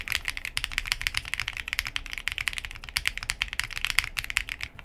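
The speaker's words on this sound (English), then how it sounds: "this is a creamy, foamy keyboard" Rapid, continuous keystrokes on a Choice65 custom mechanical keyboard, a dense run of soft, muted clacks at close range with no talking.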